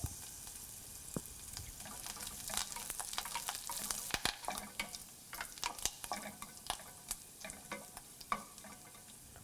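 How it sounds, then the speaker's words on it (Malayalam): Dried red chillies and curry leaves fry in hot oil as a tempering for a taro (chembu) curry, giving a steady close-up crackling sizzle with scattered sharp pops and stirring scrapes throughout. "വറ്റൽ മുളകും ബാക്കിയുള്ള 2 തണ്ട് കറിവേപ്പിലയും ഇട്ട് ഫ്രൈ ചെയ്തെടുത്ത് ഫ്ലെയിം ഓഫ് ചെയ്യാം"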